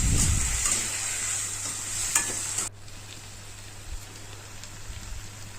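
Ground tomato masala sizzles in oil while being fried for stuffed karela, a bright hiss that drops abruptly to a quieter low crackle about halfway through, with occasional stirring taps.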